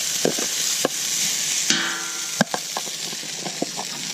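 Pre-cooked rice frying on a Camp Chef flat top griddle, a steady bright sizzle overlaid with scattered scraping and tapping clicks of a spatula, close and moderately loud, with no talk.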